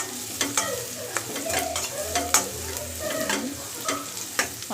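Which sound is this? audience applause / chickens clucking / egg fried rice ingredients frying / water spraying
egg fried rice ingredients frying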